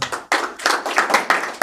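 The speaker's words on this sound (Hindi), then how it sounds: "सबके लिए जोरदार तालियां" Congregation clapping at an Easter church service, a few loud bursts of hand claps in uneven rhythm, close and fairly strong, with short gaps between the rounds.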